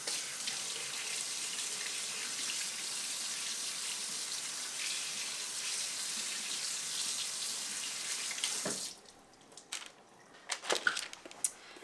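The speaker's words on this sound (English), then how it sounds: "I'll give this a really good rinse" A running kitchen tap gushes steadily as something is rinsed under it, a continuous near splashing flow for about nine seconds before it shuts off, followed by a few clinks and knocks.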